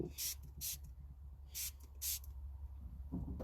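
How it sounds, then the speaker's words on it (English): Spray bottle misting a batch of grapes in a van kitchen before rinsing: four short, sharp hissing bursts in an uneven rhythm, close and fairly loud, with quiet pauses between them. "I'm spraying these one too many times, because I know I'm going to rinse it off"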